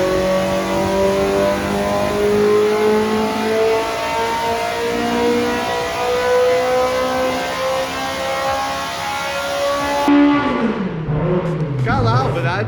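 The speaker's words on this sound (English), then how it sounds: "if we don't have to get our earmuffs with Fong's all motor on the dyno" A naturally aspirated race car engine revs hard on a dyno, its pitch climbing steadily for about ten seconds in a loud sustained roar before the throttle is let off and it drops away.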